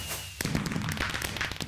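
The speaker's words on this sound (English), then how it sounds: "some good old fireworks" Fireworks go off in the Minecraft video game: after a brief quiet moment comes a loud thump, then a dense run of crackling bursts and pops that continues to the end.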